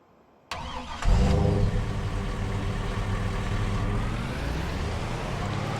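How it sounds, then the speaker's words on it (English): A pickup truck engine in Farming Simulator 25 cranks briefly, catches with a loud burst and settles into a steady idle, with no talking. "We'll go and park up this transit van and jump in to our pickup truck."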